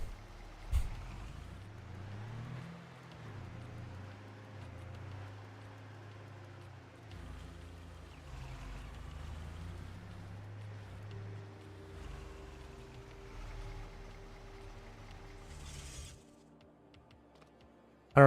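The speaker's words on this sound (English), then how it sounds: "I don't know about those engine sounds" A truck engine in Farming Simulator 22 drones low and steady, its pitch rising and falling as the vehicle revs and settles, fairly quiet throughout before cutting off near the end.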